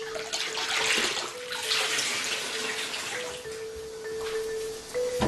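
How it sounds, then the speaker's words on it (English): Raw silk kneaded and soaked in a basin of water, giving a steady sloshing, splashing wash with a faint tonal hum running underneath, continuous and close for the whole stretch. "The raw silk is first put in water and kneaded until it is completely soaked."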